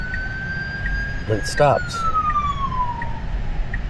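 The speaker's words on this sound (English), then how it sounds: "Here's an emergency vehicle coming." An ambulance siren wails in a steady, falling tone as it passes a Tesla Model Y on the road. It stays clearly audible throughout, and a person speaks briefly partway through.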